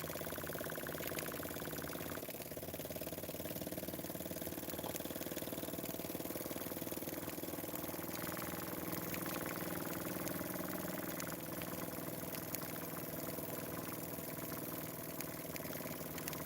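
Small model engine made mostly of brass with a steel crank, running steadily at a constant idle-like drone, fairly quiet, with no talk over it.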